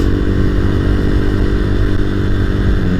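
A motorcycle engine revs loudly and steadily close by, a sustained throaty drone with slight rattling, running continuously with no voices.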